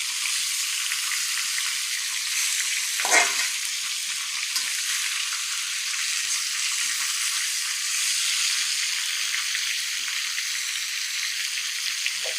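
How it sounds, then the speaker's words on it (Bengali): A fish head fries in hot oil, giving an even, continuous sizzle throughout with one brief louder bump partway through. "মাছের মাথাটা সুন্দর করে ভাজে নিব।"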